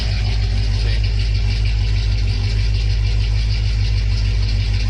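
A 1976 Cutlass with a 455 V8 and FiTech fuel injection idles steadily and loudly, a deep, even engine rumble that holds unchanged throughout with no revving.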